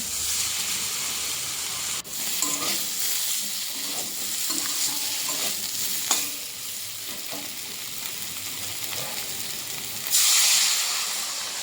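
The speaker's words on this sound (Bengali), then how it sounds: "মশলাটা তরকারির সাথে মিশিয়ে দিতে হবে।" Ground spice paste is stirred into a Bengali rui fish curry in a pan, a continuous hiss and sizzle with occasional scraping stirs. A louder burst of steam rises near the end.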